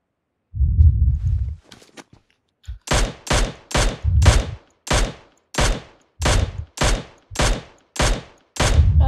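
In a video game, a rapid series of about a dozen loud, sharp gunshots fired at an even pace, after a brief low thud and a few faint clicks.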